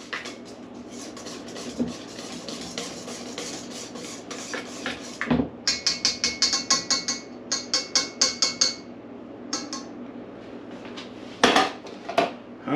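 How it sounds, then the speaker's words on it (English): Pumpkin roll batter is whisked in a bowl, with a quick run of regular metallic taps and scrapes in the middle, plus scattered clinks of utensil on the dish before and after. "Now we'll just give it one more little thing with the whisk here."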